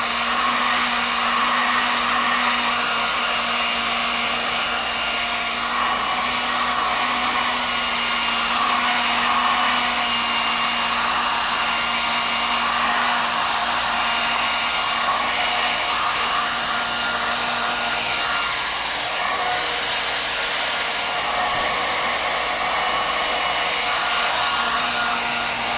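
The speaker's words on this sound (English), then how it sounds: "drying it in the direction that it was cut in" Hair dryer blowing steadily and loudly on layered bob hair, a continuous airy roar with a low motor hum that never pauses.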